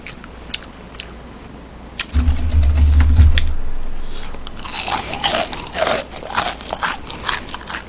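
Crunchy fried perilla-leaf chicken bitten up close, one loud crisp bite followed by a burst of crackling crunches as chewing continues, with no talk.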